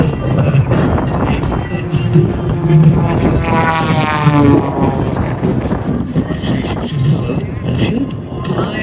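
Aerobatic plane performing at the Australian International Airshow at Avalon, its engine droning and sweeping in pitch as it passes, under loud music and a commentator's voice.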